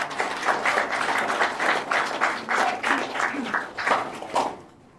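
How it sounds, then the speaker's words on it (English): A small club audience applauds after a speaker at a live comedy and debate night, with close, lively clapping in uneven bursts that dies away at the very end. "Guys, give a round of applause."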